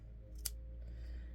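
Fabric snips make a single quick, crisp cut through material for a handmade soft-cover keepsake journal, a faint isolated snip against a quiet room.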